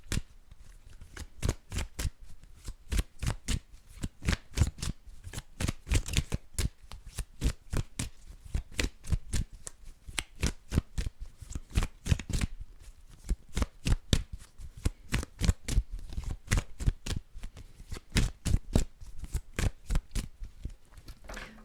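A deck of oracle cards being shuffled over and over, with rapid riffling bursts and crisp flicks repeating steadily throughout, close up and clear with no talking.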